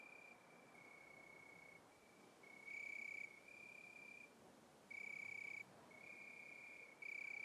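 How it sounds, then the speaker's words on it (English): Steady high-pitched cricket trills fill the night, with a few louder pulsing chirps breaking in over the constant drone. "Sound of the crickets."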